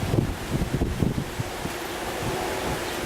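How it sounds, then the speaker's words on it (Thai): Strong wind sweeps through backyard trees, giving a steady loud rush with rustling leaves and gusty buffeting on the microphone and no voices. "ลมแรงมาก"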